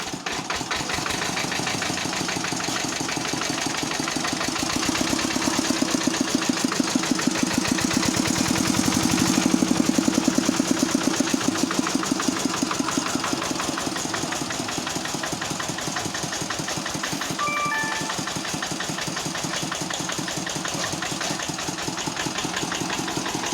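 Homemade ride-on tractor engine running steadily, a close, loud, rapid chugging knock that swells slightly midway and holds without a break throughout, with no talk.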